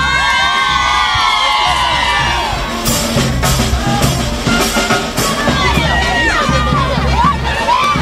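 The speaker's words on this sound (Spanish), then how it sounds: "Entre gritos, música y aplausos, así recibieron en Medellín a las jugadoras de la Selección Colombia Femenina Sub-20" A crowd in Medellín welcoming the Colombian women's Sub-20 football team cheers, whoops and shouts loudly, with whistles and a few sharp cries cutting through the dense, continuous roar.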